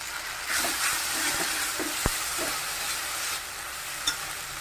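Cumin, dried chilli paste and tomato paste fry in hot oil for a fish curry, a steady close sizzle with soft stirring scrapes and a couple of sharp clinks of a utensil against the pan, with no voices.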